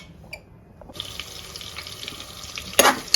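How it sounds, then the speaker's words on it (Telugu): Onions sizzle in ghee for a homemade chicken pulao cooked in a pressure cooker. A soft, steady hiss of frying runs throughout and grows a little louder, with a sharper burst of spattering near the end and no talking. "సో ఇప్పుడైతే దీన్ని ఇట్లా నీట్గా వేయించుకోవాలా. ఆనియన్స్ బాగా ఎర్రగా అవ్వాలన్నమాట"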